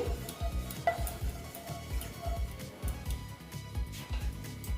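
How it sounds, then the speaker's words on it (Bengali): Cooking oil heats in a kadai before frying egg batter fritters: a steady low sizzle runs throughout, overlaid with a rhythmic, fairly close clatter of stirring and scraping against the pan. "এবার আমি তেল দিয়ে দিচ্ছি দেখো তেলটা গরম হতে দিচ্ছি"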